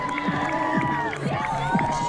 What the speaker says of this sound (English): the hometown Nisky crowd loves it